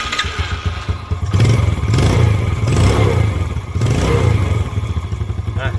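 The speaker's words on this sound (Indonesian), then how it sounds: "mesinnya sangat bandel sekali, masih halus juga, belum ada suara berisik di bagian mesinnya" A Yamaha Jupiter Z motorcycle engine running nearby in original condition, a smooth mid-pitched idle that rises in several short revs and settles back again.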